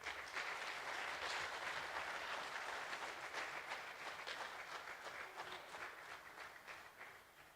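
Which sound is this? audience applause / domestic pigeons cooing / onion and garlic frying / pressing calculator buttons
audience applause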